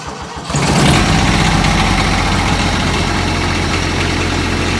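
A 1979 Kubota tractor diesel engine cranks and catches after a short quiet start, then settles into a loud, steady, rumbling idle close by.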